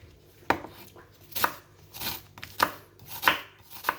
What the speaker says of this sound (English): Using half a white onion.